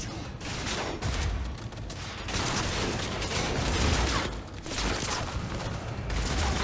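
Heavy, sustained gunfire from a big gun in the video game Cyberpunk, a dense roaring barrage of booming shots that rolls on continuously and loudly, with brief dips between bursts.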